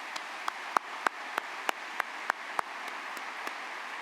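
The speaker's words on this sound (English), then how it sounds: "Please join me in giving these individuals a round of applause." Applause at the Bowling Green State University 2019 spring commencement honoring university deans, a thin, distant crowd clap over hall ambience with a few sharper individual claps standing out at a steady pace.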